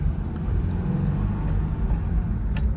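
A Toyota GR86 driving along, with a steady low engine drone and road rumble from inside the cabin and no talk.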